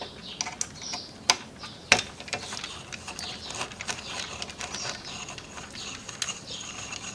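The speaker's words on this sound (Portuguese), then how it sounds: "Para soltar ela é extremamente fácil, são esses dois parafusos aqui na lateral." Two small screws come out of the side cover on an Ender 3 printer's hotend, making close, faint metallic ticks and clicks with a couple of sharper snaps and a light ratcheting scrape.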